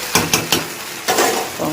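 Onions fry with potatoes in a home kitchen pan. Three quick spatula scrapes are followed by a longer stir over a loud, steady sizzle, close up and with no talking.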